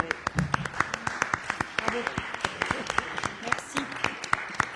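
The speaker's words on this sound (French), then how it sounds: "Et on peut les applaudir." Sparse, scattered clapping from a small group at a French municipal council meeting, individual claps distinct and fairly quiet, with faint voices in the room.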